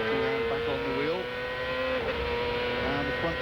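Onboard engine of a 2001 Marlboro Team Penske race car, loud and close, climbing in pitch, then dropping sharply as the driver brakes hard and downshifts, then rising again on throttle.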